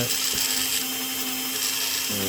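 A Dremel rotary tool cuts into a rough opal picture stone, giving a steady high-pitched whine with a harsh grinding rasp that runs the whole time and shifts slightly in pitch near the end.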